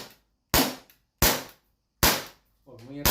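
Three sharp airsoft gun shots from a MEGABLAST blaster ring out about 0.7 seconds apart, each a loud crack with a short decay, and a voice speaks briefly near the end.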